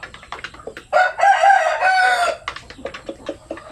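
Farm chickens, Black Australorp and Basilan native birds, cluck in short bursts around a loud rooster crow in the middle, all close and clear with no talk.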